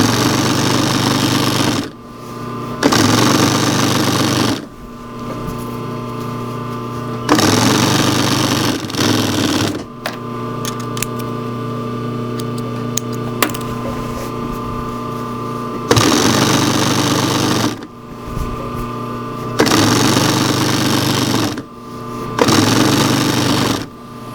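An overlock machine stitches along wool blanket fabric for a shirt, running in loud, steady mechanical bursts of a few seconds each. Brief pauses separate them, and one longer, quieter stretch sits in the middle.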